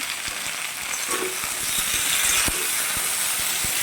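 New potatoes fry in a pan with oil, making a steady, close sizzle broken by scattered small crackles and pops.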